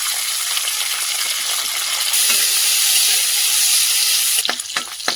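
Shrimp frying in oil in a kadhai, without salt or turmeric, crackle in a loud, continuous sizzle that swells midway, then breaks into sharp spatters and light scraping stirs near the end.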